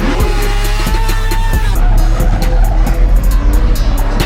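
A Ferrari F430 slides with its tires squealing and its engine roaring loud and close, the screech holding steady over the revving throughout.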